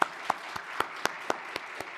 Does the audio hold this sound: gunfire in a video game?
no